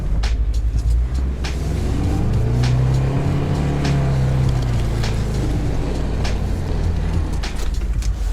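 An off-road vehicle engine labors in low gear, droning loud and steady close by with slowly rising and falling pitch throughout. No talk rides over it.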